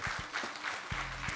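Audience clapping for married-couple contestants on a game show, a short burst of applause with some sharper individual claps and low rumbling thumps.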